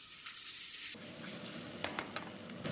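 Steady sizzling of chicken and asparagus frying in a pan, loud and close, with occasional stirring clatter and a brief rise in intensity partway through.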